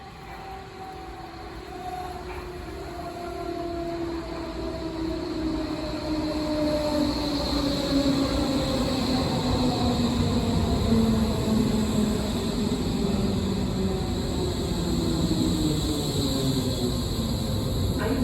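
A Berlin S-Bahn S5 train at Olympiastadion station rumbles loudly and steadily on the rails, with drawn-out metallic wheel squeals gliding in pitch over the roar, no voices.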